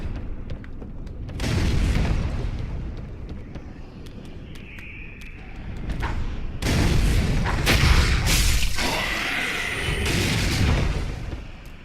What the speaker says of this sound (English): A lot of those barrels that were littering the floor here are explosive barrels, thus the bigger freaking explosion that happened.